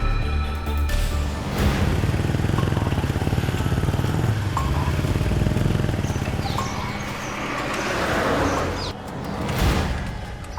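A motorcycle engine runs steadily and loudly close by, a continuous rough drone that swells and dips slightly over about ten seconds before easing near the end.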